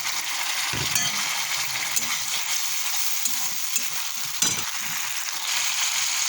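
Tomato dropped into hot oil in a pan, giving a steady sizzle and frying hiss along with occasional stirring scrapes and soft clinks, close and continuous with no talk.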